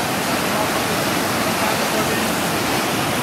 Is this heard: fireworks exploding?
no